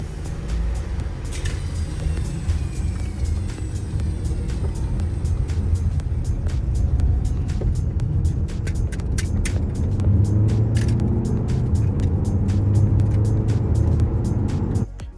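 A Chery Tiggo 8 Pro Max pulls away from a highway toll gate, engine and road noise building steadily from inside the cabin, with repeated ticking clicks over the drone.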